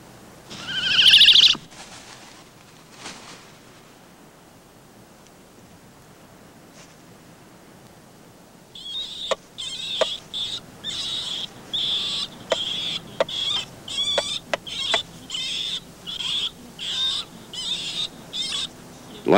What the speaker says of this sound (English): The owl, too,